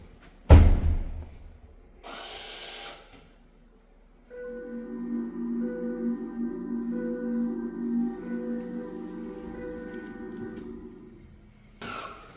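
After a dull thud, a muffled electronic reversing beeper on a KGM Torres EVX sounds steadily for several seconds, its speaker covered with sponge, its tone softened and fairly quiet.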